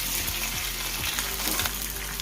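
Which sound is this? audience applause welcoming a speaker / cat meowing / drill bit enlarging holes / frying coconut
frying coconut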